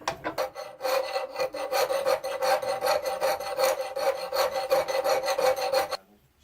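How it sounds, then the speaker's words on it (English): An oval file rasps across unhardened knife blade steel in a steady, even rhythm of about twenty close strokes, then stops, with no talking. "I'm going to use a file. It's more of an oval shaped kind of file."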